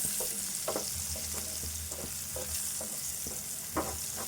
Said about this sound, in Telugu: ఉల్లిపాయ వేగేదాకా కలుపుకోవాలి